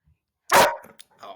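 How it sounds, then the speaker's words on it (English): A dog barks once, loud and close, then a brief yip follows in an otherwise quiet moment during a sports podcast. "Oh, dude, don't bark."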